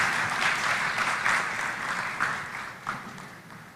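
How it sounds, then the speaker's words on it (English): Audience applause at the 18th COMESA Business Forum at KICC in Nairobi, a steady wash of many hands clapping that runs the whole time with small swells, loud and fairly close, with no talk over it. "let's give her a round of applause"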